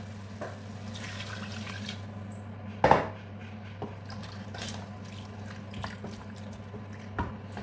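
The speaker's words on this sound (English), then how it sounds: "So I'll be adding water." Water is poured into a cooking pot of boiled meat for ogbono soup, with a soft trickle over a steady kitchen hum, a sharp clank of the pot near the middle and a few faint knocks afterward.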